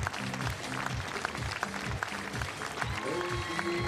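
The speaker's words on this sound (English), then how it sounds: "we can already hear the crowd getting very excited" Crowd applause and excited cheering for German and Italian archers stepping onto the field for the recurve team finals at the Berlin World Cup, a steady broad wash of clapping with a voice speaking over it partway through.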